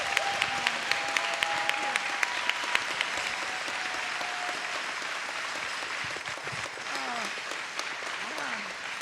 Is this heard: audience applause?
yes